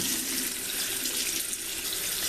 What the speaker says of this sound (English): it takes quite a bit of rinsing to get the water to come clear